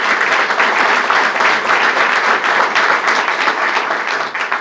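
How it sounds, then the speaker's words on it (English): Sustained audience applause at a county government address, a dense, loud wash of many hands clapping that continues evenly, tapering slightly at the end. "Please give them a round of applause if you will."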